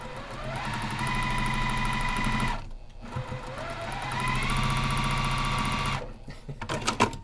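A Juki commercial sewing machine stitches at very high speed in two sustained runs of steady mechanical whirring with a brief pause between, then a few clicks and short bursts at the end.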